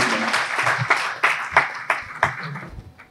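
Audience at a school integration day event clapping for an honoured speaker, a loose room of claps with several louder individual hand strikes standing out, uneven and near.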